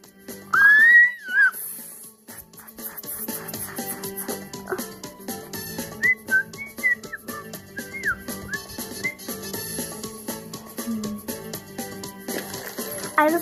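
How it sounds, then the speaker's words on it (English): A person whistles in short bright melodic bursts, a loud rising phrase near the start and more scattered whistled notes later, over busy game sound effects and music. "I just really love to whistle."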